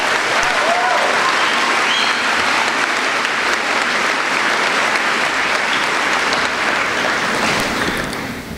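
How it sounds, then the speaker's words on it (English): A large audience at a high school graduation commencement applauds the band and choir with dense, steady clapping that holds strong for about eight seconds and then begins to taper. "Would you please give them a round of applause?"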